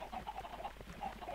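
Faint, rapid clucking from a crowd of chickens in a video game broiler farm, a low continuous chatter of small repeated calls.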